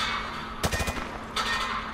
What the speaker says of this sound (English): He sprayed bullets all over the deck.